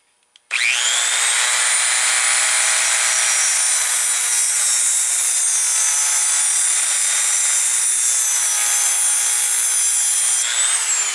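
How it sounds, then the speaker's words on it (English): A Dremel rotary tool cuts a slot during a scooter trike repair, a loud, high, continuous grinding whine that starts abruptly and holds steady for about ten seconds before stopping. "Just took my Dremel, cut a little slot."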